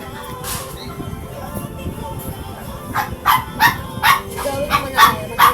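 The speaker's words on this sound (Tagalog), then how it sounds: "sorry kung maingay yung background kasi yung aso namin papakain na naman." A dog waiting to be fed gives a run of short, sharp yipping barks, rhythmic and fairly close, after a few quiet seconds of faint background noise.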